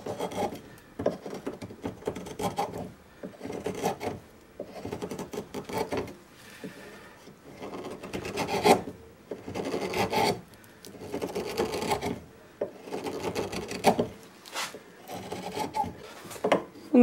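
A blade carves a walnut wood spoon in repeated rasping strokes, each scrape lasting about a second, close and fairly loud, with short pauses between passes and no talking.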